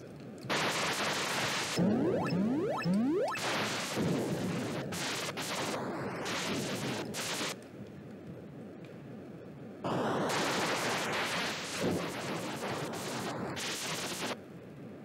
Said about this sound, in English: This guy is firing on me like...